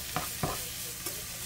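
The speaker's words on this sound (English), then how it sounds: "It's still sizzling because it's so hot" Garlic sautéing in a very hot pan, nearly off the heat, gives a quiet steady sizzle with a few brief stirring scrapes, heard alone and close.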